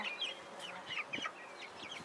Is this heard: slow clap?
no